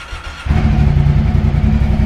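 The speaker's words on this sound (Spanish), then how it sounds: "Ese sonido de motor en B" A V-twin motorcycle engine idles close up after a quieter start, its steady low throbbing rumble holding at a strong level throughout.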